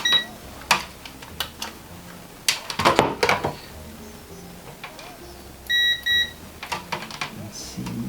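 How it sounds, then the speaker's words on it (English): A few short electronic beeps from a multimeter in continuity mode testing a PlayStation 3 switch, some brief and some held, amid tapping and clicking handling noises. "The multimeter on continuity mode, which is the bit that beeps whenever it gets a path."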